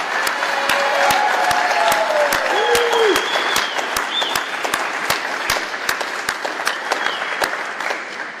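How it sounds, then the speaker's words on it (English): An audience at a squash championship gives loud, sustained applause to the women's tournament winner, with scattered cheers and whistles mixed into the clapping and a few sharp louder claps near the microphone. "please give a massive round of applause, a huge congratulations to Olivia Weaver."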